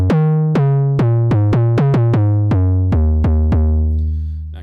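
An 808 bass synthesized in Ableton Operator set to a single voice plays a rapid run of about fourteen deep notes, each cutting off the previous one, loud and clean, with the final note ringing out.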